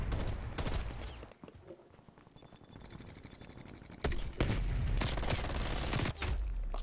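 Gunfire rattles in a shooting video game in rapid, loud bursts of automatic fire. It eases into a quieter gap, then comes back as heavy, dense volleys.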